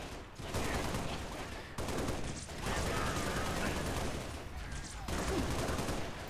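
Sustained gunfire from the video game Halo Reach, a dense continuous burst of rapid shots running the whole stretch with brief gaps, loud and near, with a voice faintly under it.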